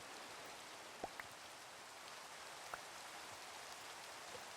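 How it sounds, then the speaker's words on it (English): Rain falling outdoors, a faint, even hiss of drops on surfaces that runs steadily through the whole stretch, with a couple of brief soft knocks and no speech. "And it's raining."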